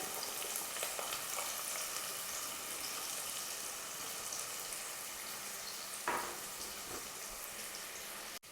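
Thinly sliced onions fry with turmeric, salt and whole spices for a drumstick chicken curry, giving a steady, close sizzle throughout with a brief stirring clatter near the end.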